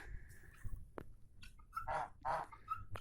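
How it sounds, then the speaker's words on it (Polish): Domestic geese on a small farm give a few short honking calls over faint background clatter, close and fairly quiet, with no talk. "I tutaj są gęsi."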